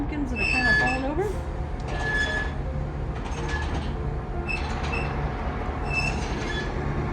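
The Belfast and Moosehead Lake Railway train rolls past on an autumn day, with a steady rumble and repeated high metallic wheel squeals. People talk over it.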